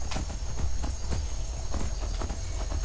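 Horse hooves clip-clopping at a walk while riding down a road in the video game Skyrim, a steady run of close, muffled hoof falls over a constant background hum.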